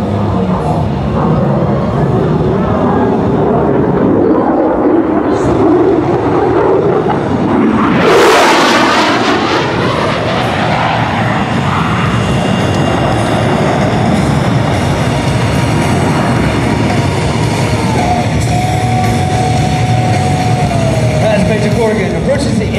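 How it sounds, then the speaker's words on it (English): An F-16 Falcon fighter jet roars past during an airshow demo in Portsmouth, its loud rumble swelling into a sharp sweeping flyby peak, then fading into a long distant drone while an announcer talks over the PA. "Major Corrigan brings the noise at over 950 feet per second."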